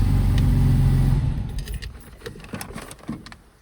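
A 1958 Jaguar XK150 SE fixed-head coupe in British Racing Green, with a low engine rumble that fades, followed by scattered light clicks and rattles close by.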